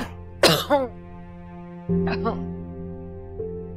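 Two sharp bursts of coughing, one near the start and one midway, over a steady low background hum.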